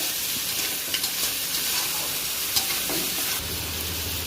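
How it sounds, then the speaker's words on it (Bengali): Crabs sautéing in a thick spice paste in a pan, a steady close sizzle with soft scraping and occasional stirring clicks, and a low rumble entering near the end. "এখন দিয়ে দেবো কাঁকড়াগুলো এখন খুব ভালো করে কষিয়ে নেব"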